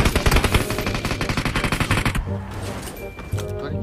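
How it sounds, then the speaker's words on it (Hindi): Rapid bursts of automatic gunfire from the game BGMI rattle loudly in quick succession, then give way to a brief lull and a few scattered shots. "राम ने गोली चला दो वहां से।"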